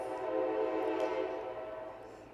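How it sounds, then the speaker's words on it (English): A passing train sounds a long, sustained horn blast, a steady harmonic tone that swells and then slowly fades as it moves off, heard at moderate distance with no voices. "There's my train."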